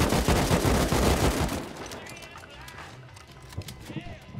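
Gunfire in the video game Rust as a player shoots out a loot barrel: a dense burst of rapid shots up front that fades into scattered quieter pops, with people talking over it.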